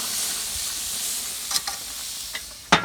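Butterflied leg of lamb sizzling in a hot pan just after flipping, a steady loud hiss of frying with a few sharp spits and pops, close up and without talk.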